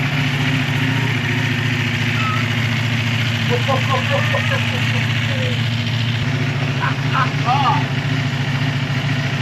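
A Ducati motorcycle engine, fitted with refreshed forks and a new ECU, runs loud and steady at a rumbling idle close by, with a few short sounds over the top.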